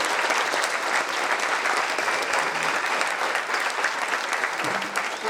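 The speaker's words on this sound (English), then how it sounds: "Round of applause for our heavy hitters up here." A crowd at a Gymkhana GRiD conference gives a sustained round of applause for the panel guests, a dense even clapping that carries on for several seconds with a few scattered voices beneath it.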